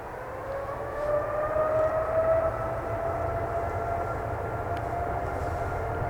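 At Manchester Airport an aircraft engine drones steadily with a rising, whining tone over a low rumble, holding at a fairly even loudness.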